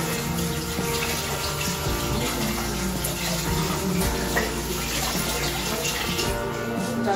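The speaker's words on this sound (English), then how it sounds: "Please, wash your hands." Tap water runs steadily into a kitchen sink for washing hands, a dense, continuous splashing rush at close range, loud and unbroken from start to finish, with no talking.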